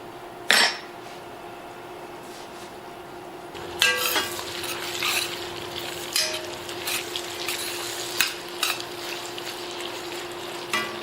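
Sausage and onions frying in a soup pot for Brussels sprouts and sausage soup, a steady close sizzle punctuated by a spoon knocking and stirring against the metal pot.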